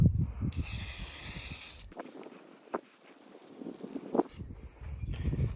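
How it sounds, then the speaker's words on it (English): Teal spray paint hissing from an aerosol can onto a tire, a bright steady burst lasting over a second, then quieter rustling and handling noises with a couple of short clicks, close by and without talking. "we've got some teal spray paint and we will paint the tire here"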